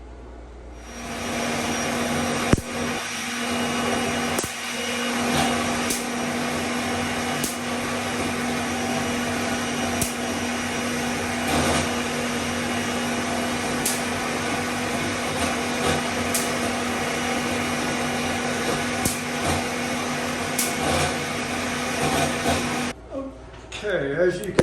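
A Van de Graaff generator with a Teflon roller at the top and a nylon roller below runs as a steady motor hum with a broad whirring drone. It holds even and loud throughout, then winds down abruptly near the end.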